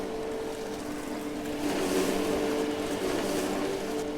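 Mower driving at cruise control speed in the farming game Farmer's Dynasty, a steady mid-pitched engine drone with a slight rise in level partway through, continuous and close with no talking.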